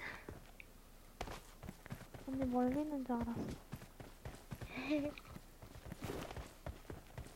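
Footsteps in PUBG Mobile tap in a quick, faint rhythm throughout, while players chat over them.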